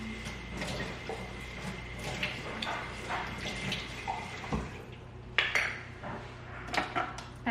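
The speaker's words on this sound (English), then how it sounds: "I'm going to add 5 tablespoons of water." Spoonfuls of water are added to a vegan chocolate orange muffin mixture in a kitchen, with small splashes and clinks of spoon against bowl over a low background hum, a few sharper taps standing out near the end.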